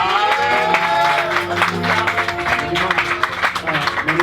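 Wedding guests applaud through a dense, continuous wash of clapping, with a voice carrying over it at the same time.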